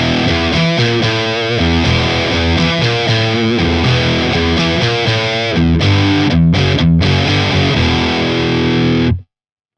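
Electric guitar played through a distortion pedal, loud and saturated, with chugging chords and sustained notes over about nine seconds before a sudden cutoff into silence; no talking.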